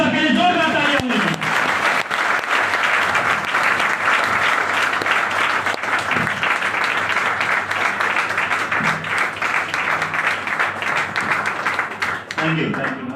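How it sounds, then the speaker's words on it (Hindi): A large crowd at a business event applauds loudly to welcome a leader onto the stage, with thick, continuous clapping throughout and voices briefly audible over it near the start and the end. "Most welcome great leader Shri Sumit Gupta sir के लिए जोरदार तालियां होंगी।"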